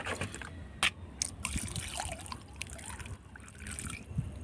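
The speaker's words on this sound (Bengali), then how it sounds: "এবারে ভরপুর জল দিয়ে দেব টপ ভর্তি করে জল দিয়ে দেব" Water poured into a hibiscus pot, a close trickling and splashing stream over soil with a few brief knocks, steady and moderately quiet throughout.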